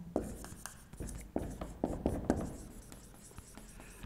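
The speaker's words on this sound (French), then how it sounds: "je l'écris en rouge" A pen writes in red ink on paper in short scratchy strokes, a quick irregular run of taps and scrapes close by with brief pauses between them.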